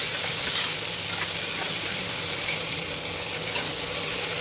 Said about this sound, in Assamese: তাৰপাছতে এয়া দেখিছে বিলাহী আৰু আলু